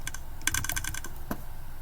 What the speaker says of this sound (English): droppers click when they dry fire